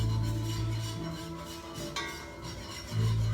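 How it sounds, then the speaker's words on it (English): A spoon scraping and stirring broccoli cheese soup in a pot over medium-low heat, repeated rasping rubs close up with a few brief clinks, no talk. "And we'll just go ahead and stir this around here for a few minutes."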